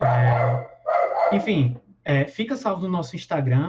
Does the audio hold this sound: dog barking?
yes